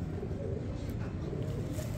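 Pure high flyer pigeons cooing, a low, continuous murmur of several birds close by.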